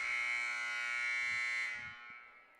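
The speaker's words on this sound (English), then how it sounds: "There's the buzzer, and we're about ready to get this second set underway" A loud, sustained electronic buzzer blares steadily for nearly two seconds before tapering off, sounding in a gym at a girls' high school volleyball match between Brookline and Framingham ahead of the second set, with faint crowd murmur underneath.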